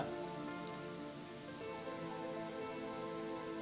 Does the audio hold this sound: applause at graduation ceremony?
no